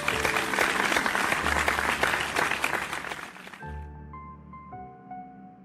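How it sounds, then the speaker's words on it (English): Classroom audience clapping for Caillou, a lively burst of many hands that stops abruptly after about three and a half seconds, followed by a short musical tone sequence. "Everyone, I want you to give Caillou a hand of applause."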